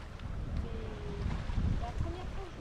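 Wind blows steadily on a sailboat cruising along the west coast of Mayotte in a light southerly breeze, with rushing gusts buffeting the microphone and soft water noise underneath.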